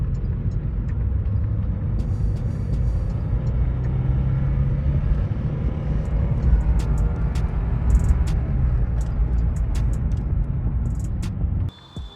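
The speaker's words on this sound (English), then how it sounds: "It's revving high. It's really does. It's not having power up high, and it's revving up high like that." A faulty VW Polo engine that revs high without pulling power, heard as a steady, close, rumbling drone with little change in pitch that cuts off abruptly at the end.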